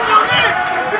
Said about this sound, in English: the crowd is so loud I'm having to turn down the microphone